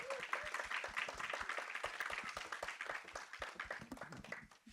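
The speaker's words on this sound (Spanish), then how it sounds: "Un aplauso." Clapping from a seated audience welcomes a screenwriter onto the stage at a Spanish-language pitch event. The individual claps are close and distinct, and they thin out slightly toward the end.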